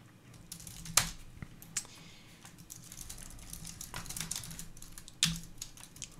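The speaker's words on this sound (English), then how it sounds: "I'm typing out the UI again." Keys clicking on a computer keyboard while someone writes GUI markup code, with scattered soft keystrokes and a few louder sharp taps, close and fairly quiet with no talking.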